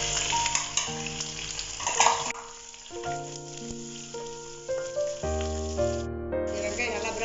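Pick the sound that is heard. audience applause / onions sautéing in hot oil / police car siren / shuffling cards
onions sautéing in hot oil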